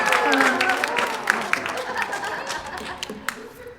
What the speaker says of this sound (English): began to clap